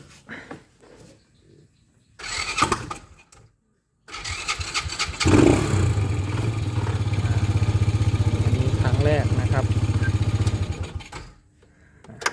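A motorcycle fitted with a lithium battery in place of a lead-acid one is started: a short cranking burst, a pause, then the engine catches and runs loudly near the microphone for several seconds before cutting off.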